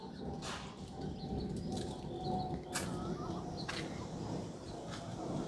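Pigeons coo softly and flap their wings now and then while feeding outdoors in the morning, with faint calls over a low, steady background.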